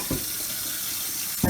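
Tap water runs steadily into a kitchen sink, a continuous close splashing hiss as lasagna grease is strained, with brief louder gushes at the start and end.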